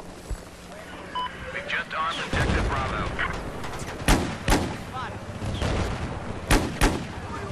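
Rifle shots and explosions ring out in a chaotic Battlefield 4 rush match on Gulf of Oman, loud bursts with sharp single cracks, over an excited player's shouting and game beeps.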